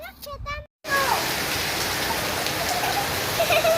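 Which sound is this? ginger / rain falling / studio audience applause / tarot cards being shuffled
rain falling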